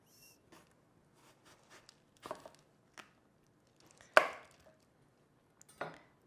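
A knife slices open a date caramel apple with chocolate, giving a few faint, scattered cuts and one sharper crunchy crack near the end against near silence.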